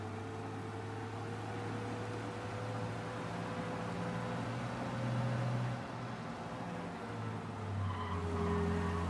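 A car engine roars steadily at speed with tire squeals and skidding sounds rising over it during a police chase in the video game Mafia, dense and continuous.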